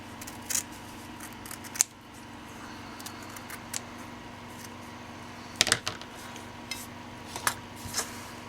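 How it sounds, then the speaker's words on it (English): Scissors trim around stacked fabric circles for vintage-style fabric flowers, giving a handful of sharp, close snips spaced irregularly over a faint steady hum. "Now I'm just going to trim around."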